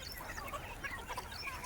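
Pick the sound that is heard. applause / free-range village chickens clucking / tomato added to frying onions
free-range village chickens clucking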